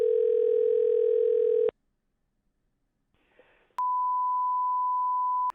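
A telephone line sounds a steady dial tone that cuts off abruptly. After a quiet pause and a faint click of dialing, a single long pure ringing beep follows while calling a coin shop.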